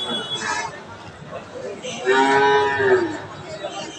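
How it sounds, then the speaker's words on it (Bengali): A Sahiwal bull at a cattle market gives one loud, drawn-out moo in the second half, with crowd chatter and people talking around it. "হাই কোয়ালিটির শাহিওয়াল সার গরু"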